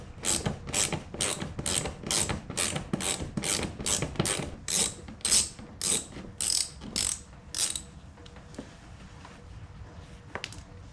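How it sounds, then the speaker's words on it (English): A rivet gun setting rivets in a fiberglass roof spoiler on a car: a rapid, steady series of about fourteen sharp, close clicks, one after another, then a few fainter scattered taps. "so we're just going to rivet it in a couple spots"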